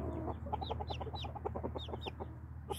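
Backyard flock of chickens clucking in soft, repeated short calls with a few higher chirps from young birds, steady murmur close by and no talking.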